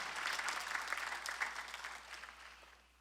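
A church congregation claps together during a Sunday worship service, a dense patter of applause that fades out toward the end, with no talking over it.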